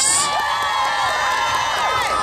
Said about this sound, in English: please, ladies and gentlemen, give a massive round of applause